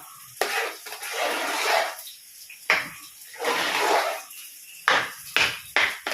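Pongal being stirred in a cooking pot, a few bursts of scraping, sloshing strokes with short pauses between them, close and fairly loud, with no talking.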